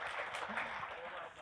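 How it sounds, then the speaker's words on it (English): Audience applause in a conference talk setting, a steady dense wash of clapping lasting the whole moment with faint voices mixed underneath. "Let's give it a round of applause."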